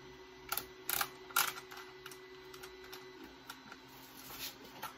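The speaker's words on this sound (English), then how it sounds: "A little bit of noise in the background because I got a 3D printer running at the moment." A 3D printer running in the background of a workshop, giving a faint low hum with scattered soft clicks and brief whirring bursts, heard alone without talk.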